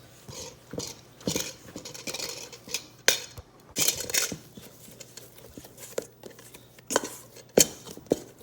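A spoon or spatula working bread dough around a bowl, irregular scraping and knocking strokes with a few sharp clinks against the bowl, close and alone.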